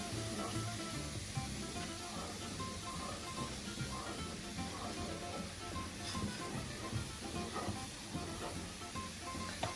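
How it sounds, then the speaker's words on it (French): A water and black pepper mixture simmers and evaporates gently in a pan for cacio e pepe, giving a steady, soft bubbling hiss with faint crackles throughout and no talking. "je vais laisser ce mélange eau et poivre se faire, l'eau s'évaporer doucement"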